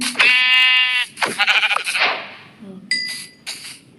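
Sheep in the Lokicraft video game bleat loudly several times, close and clear with wavering tones, with brief gaps and softer bleats trailing at the end, no speech.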